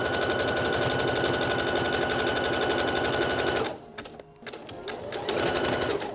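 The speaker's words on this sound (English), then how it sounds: "So now we just need to do another line of zigzag stitching right on the edge of the elastic, and we're going to sew this from the right side." A sewing machine zigzag stitching along the edge of plush elastic, its rapid needle chatter running loud and steady, then cutting out briefly before starting up again near the end. No voices are heard.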